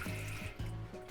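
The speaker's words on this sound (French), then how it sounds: "une douchette, on s'en sert comme douche" Water runs from a hand-held shower hose in a boat's toilet compartment, a close, steady spray with short pulses as the flow shifts.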